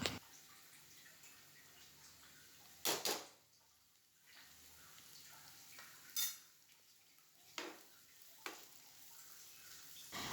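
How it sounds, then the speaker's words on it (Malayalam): Onions sautéing with crushed ginger and garlic in a pan for a mutton curry: quiet background sizzle broken by a few sharp scrapes and clinks of a spoon stirring against the pan, spaced several seconds apart. "ഇനി നമുക്കിത് നന്നായിട്ടൊന്ന് വഴറ്റി കൊടുക്കാം"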